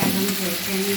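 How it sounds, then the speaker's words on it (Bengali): Chicken sizzling and frying steadily in a hot pan, a continuous close crackle with faint stirring and no voices. "এখন চিকেনটা কষিয়ে ভালো করে তারপরে আমি এখানে জল দিয়ে দেবো।"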